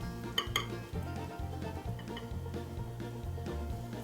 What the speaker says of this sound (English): And now we're just going to mix this in with our chocolate.